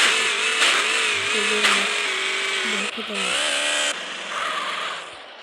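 A motorbike engine in the video game GTA San Andreas revs with a rising and falling pitch alongside talk, cutting out briefly before fading toward the end.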